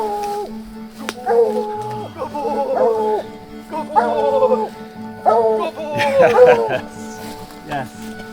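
A hunting dog working a field on a hunting trip gives repeated whines and yips in short bursts, close and fairly loud, with a low steady hum beneath.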